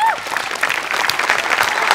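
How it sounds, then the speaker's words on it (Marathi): An audience at a Marathi comedy stage show breaks into dense, steady applause, a continuous crackle of many hands clapping, with a voice briefly audible at the start. "सगळ्यात आधी खूप जोरदार टाळ्या वाजल्या पाहिजेत आर्ट डिपार्टमेंटसाठी"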